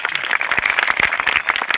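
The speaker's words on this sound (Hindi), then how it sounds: "ऐसे अम्बेडकर के लिए मैं तालियां बजवाने का काम करूंगा" A seated crowd at a public gathering honoring Ambedkar breaks into brisk, close applause, sharp overlapping claps filling the short moment without talk.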